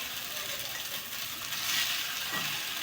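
Kande pohe being stirred in a hot pan, with a steady close sizzle and a soft scraping swirl of the spoon passing through the flattened rice partway through.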